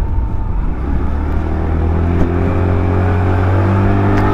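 A 2024 Austin ST MAX 200cc scooter engine pulls away, its steady hum rising in pitch as it accelerates, loud and close with a continuous droning tone.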